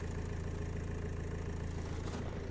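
A Renault Trafic van's 2.0-litre diesel idles close by, giving a steady, even rhythmic chug at constant level with no voices.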